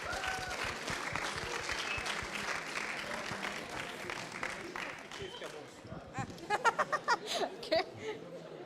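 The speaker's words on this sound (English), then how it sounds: "So round of applause." Audience applause at an international marketing week closing and prize-giving ceremony, a sustained wash of clapping with some laughter and murmuring, thinning into scattered louder individual claps near the end.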